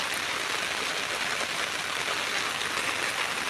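Rain falls on an open farm field as a steady, close, even hiss with no pauses or voices.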